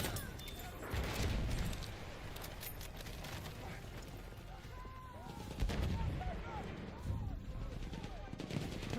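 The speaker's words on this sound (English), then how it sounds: "Machine gun, hostile." Gunfire in a Battlefield 1 multiplayer match, dense and continuous with repeated bursts of shots and heavier booms swelling around the middle, set against a busy battlefield wash.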